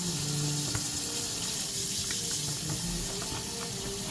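Cold water runs from a tap in a steady, fairly quiet hiss and splash into a sink, continuous with no talking.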